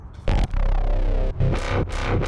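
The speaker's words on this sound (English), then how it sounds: "I reused an old bass that I'd had before and then made a new one to try and combine them here" Drum and bass track passing from an old FM synth bass to a newly made FM synth bass, heavy distorted low end with sweeping, wobbling tones and punchy drum hits, loud and continuous.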